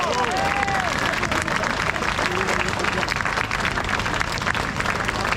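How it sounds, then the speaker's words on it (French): A crowd at a political rally in Paris applauds loudly and continuously, with scattered cheers and a voice calling out over the steady clapping. "Bravo à eux, on peut les applaudir très très fort."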